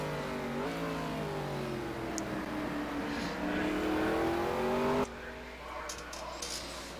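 Onboard race car engine at Road America in a racing video game, a strong close roar rising in pitch through the gears, then cutting to a thinner, quieter engine tone near the end.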